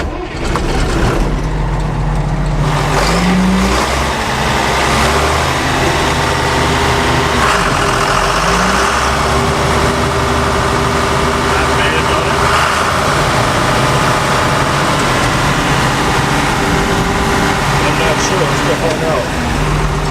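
A heavy diesel engine on an old abandoned combine harvester turns over and catches, then runs loud and rough for a long stretch, its low rumble filling everything.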